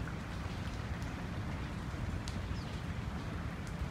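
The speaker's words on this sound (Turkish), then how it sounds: "Hava yağmurlu." Steady rain falls outdoors on a rainy morning, a dense, even hiss of drops spread evenly across the whole stretch with a few brighter ticks on top, and no voices.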